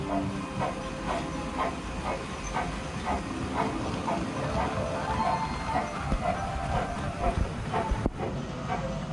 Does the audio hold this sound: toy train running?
yes